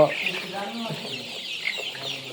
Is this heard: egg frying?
no